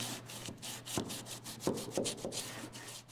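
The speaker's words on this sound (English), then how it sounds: "I take just a block of wood with a sticky back piece of sandpaper on it, and I can hold that in there" A sandpaper block works the wooden planks of a plank-on-frame lobster boat during fairing, giving rhythmic close scraping strokes about twice a second, fairly quiet with no talk.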